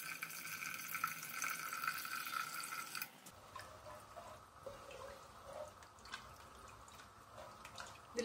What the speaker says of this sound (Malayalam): നമുക്ക് കുറച്ച് വെള്ളം ആഡ് ചെയ്യാം